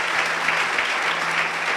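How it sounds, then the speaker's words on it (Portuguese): Church congregation breaks into steady, dense applause, a loud continuous wash of many hands clapping with no voices on top. "Uma salva de palmas."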